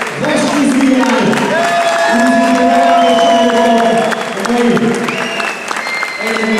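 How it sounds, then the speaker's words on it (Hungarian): A crowd at a cage fighting event in Szekszárd applauds and cheers loudly and continuously while an announcer speaks over the clapping through a PA system. "Tapsoljuk meg mindkét versenyzőt"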